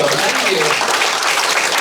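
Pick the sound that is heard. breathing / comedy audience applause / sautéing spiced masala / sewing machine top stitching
comedy audience applause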